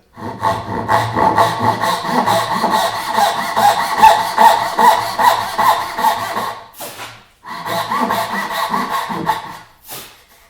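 A hand saw cuts through wood for half-blind dovetail joints in quick, even back-and-forth strokes, loud and close. There is a short pause before the steady rasping starts again.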